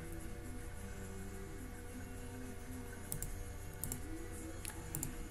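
A few sharp computer mouse clicks land in quick pairs against a steady hum, likely while installing Node.js on a Windows PC, with no one speaking.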